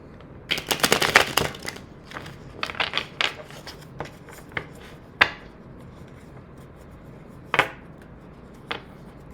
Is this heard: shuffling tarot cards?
yes